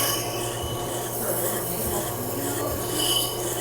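Scissors being freehand sharpened on an AquaHone Stylist II machine, a continuous loud grinding rasp of steel on the wheel with slight pulsing swells.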